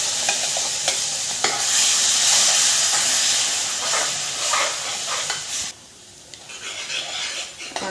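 Ground masala paste sizzles loudly with onions in a hot pan, a dense close hiss with scraping stirs, briefly easing near the end, no talking.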